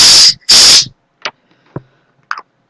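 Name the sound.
Sentry pet behavior spray can hissing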